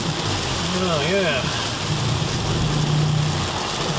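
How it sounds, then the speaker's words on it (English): Continuous broadband hiss of rain and road spray with a low engine rumble while driving into a rainstorm; a voice speaks briefly over the noise. "running into a rainstorm"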